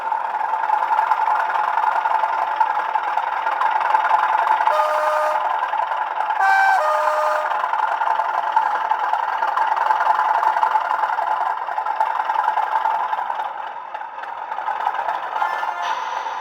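A Bachmann Class 37/4 model diesel locomotive runs with a loud, steady diesel engine drone that holds throughout, with brief tonal horn-like notes breaking in partway through.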